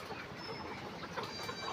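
Layer hens at a poultry farm on a hot day, with a fan running, give soft scattered clucks over a steady low whirring background, faint and fairly close.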